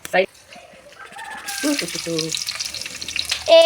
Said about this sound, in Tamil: செமையா பொரியுதே.